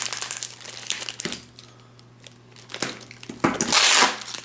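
A taped cardboard puzzle box being carefully cut open, with bursts of crinkling, scraping and tearing that rise and fall, ending in a louder rip of tape and cardboard close by.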